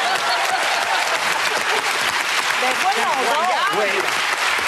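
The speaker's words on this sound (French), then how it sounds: "Ben, moi, j'applaudis." A television studio audience claps in a sustained burst at fairly close range, while voices exchange brief words over the applause.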